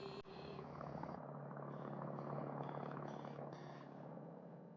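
Engine drone of a small Cessna propeller plane in the 1973 film The Wicker Man, a steady, fairly loud hum that holds evenly for the whole stretch with no talking.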